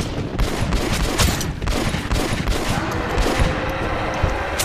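Rapid shotgun fire from a drum-fed gun in Metro: Last Light gives a dense run of loud, sharp blasts in quick succession, close and sustained across the whole stretch.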